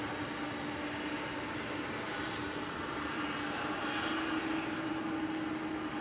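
A Boeing 747 jet departing DFW Airport at night for Louisville: a steady, broad roar of engines at a distance, holding even throughout with no speech.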